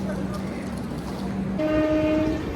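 The Prasanthi Express runs at speed near Tadepalligudem, heard from inside an AC three-tier coach as a loud, steady rumble, with a sustained horn blast sounding over it in the second half.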